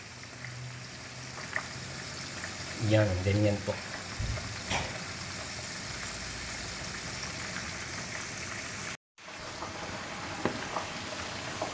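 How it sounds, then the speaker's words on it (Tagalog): Paksiw na bangus, milkfish in vinegar and ginger, simmering at a steady rolling boil in a pot, a constant sizzling bubble throughout with brief clinks near the middle and someone speaking a few words. "Yan, kumukulo-kulo na nga siya ng todo"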